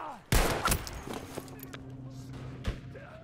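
Enemy machine gun fire in the video game Battlefield V: a few loud, sharp bursts, close by, followed by a lingering low rumble and quieter battlefield noise.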